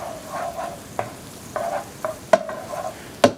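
Onions being stirred in an electric fry pan: a soft sizzle punctuated by roughly eight scraping strokes of a utensil across the pan, two of them sharper knocks.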